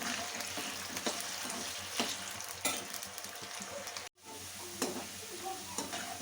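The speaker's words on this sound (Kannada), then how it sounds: "ಸ್ವಲ್ಪ ಸಾಫ್ಟ್ ಆಗೋವರೆಗೂ ಅದನ್ನು ಫ್ರೈ ಮಾಡಿಕೊಂಡು ಬರೋಣ" Brinjal fries in a pan until soft, giving a steady, close sizzle with stirring noises throughout and one brief pause midway.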